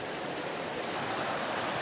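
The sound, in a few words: hidden waterfall flowing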